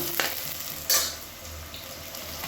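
Small onions sautéing in hot oil for chicken biryani, a steady close sizzle with a brief louder burst of stirring near the start, then settling back into even frying.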